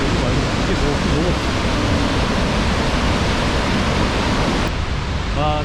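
Victoria Falls roars as a dense, continuous rush of falling water beside a forest path, loud and steady throughout.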